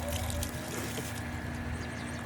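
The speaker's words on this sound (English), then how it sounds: "Now we'll just give it a rinse." Water rinsing a patio, a continuous close splashing and trickling wash with a steady hum underneath, no talk.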